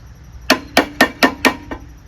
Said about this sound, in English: you just have to get a flathead and bend this out to the flat part of the bolt